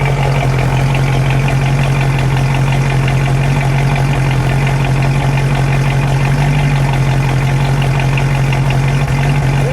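A 1970 Ford Shelby Mustang GT500 with the 428 Cobra Jet V8 idles outdoors in the cold, a loud, steady, close low rumble holding even for the whole stretch with no voices.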